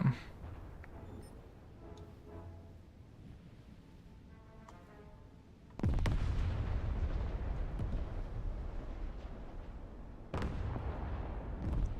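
Big booming salvos from a British cruiser's naval guns in a warship battle game, one heavy blast near 5.8 s and another near 10.4 s, each leaving a long roaring rumble, after a quieter stretch of faint ambient ticking.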